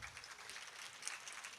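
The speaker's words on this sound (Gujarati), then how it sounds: "આપણે તાળીઓના ગડગડાટથી દીકરીને વધાવીએ" Faint, steady clapping from an audience follows a dance performance at a birthday celebration in Rajkot. It sounds like a continuous patter of many hands with no voices over it.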